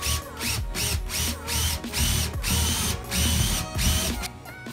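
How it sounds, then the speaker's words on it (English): A power drill with a 1/2-inch spade bit bores holes into pallet wood in several short, loud bursts, the motor whining and the bit chewing through the grain, with no voices. "I'm gonna drill them with a 1/2-inch spade bit."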